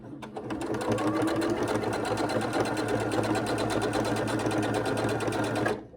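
Sewing machine stitching a seam on an extra-large fabric scrunchie, a steady, rapid needle rhythm running close and loud without a break for several seconds.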